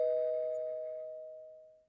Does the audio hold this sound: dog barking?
no